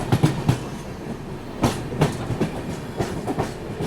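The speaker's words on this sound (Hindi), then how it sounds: "हरिद्वार सियालदह पदातिक एक्सप्रेस।" The Haridwar Sealdah Padatik Express passes close by with rhythmic clickety-clack wheel beats over rail joints, sharp repeated knocks standing out over a continuous rolling rumble, with no talking.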